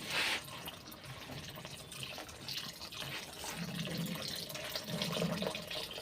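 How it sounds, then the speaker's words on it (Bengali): Water poured into a cooking pot after sugar has been added, a steady close liquid splashing and trickling with a louder gush at the start and again near the end. "এবার পরিমাণ মতো জল দিয়ে দেব।"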